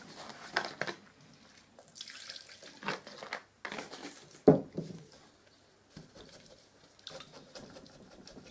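Paint brush getting a final rinse in white spirit, with irregular splashy sloshing and dripping bursts of liquid, one louder splash midway, close and moderately quiet with short pauses between.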